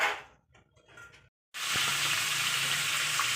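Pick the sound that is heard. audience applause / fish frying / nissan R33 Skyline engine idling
fish frying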